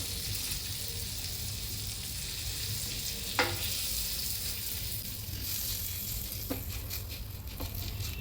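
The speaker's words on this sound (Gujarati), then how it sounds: "હવે ગેસ પર તવો મૂકી તેમાં થોડું બટર નાખી તેમાં થોડી ઠેચા ચટણી નાખીએ અને બરાબર શેકી લેવાનું" Thecha chutney roasts in butter on a hot griddle (tawa), giving a continuous close, dense sizzling hiss broken by a few light scraping clicks.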